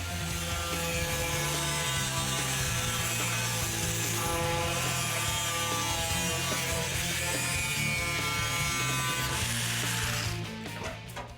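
Metalworking on 1/4 inch steel rod for a Mazda B2500 truck build, throwing sparks: a steady, loud grinding and rasping drone held close for about ten seconds before it stops.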